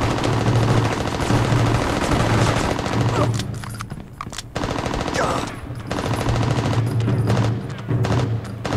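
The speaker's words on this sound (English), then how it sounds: "This submachine gun sucks." Submachine gun firing in the video game Mercenaries, sustained rapid automatic bursts that run almost nonstop and loud, with brief pauses between strings of shots.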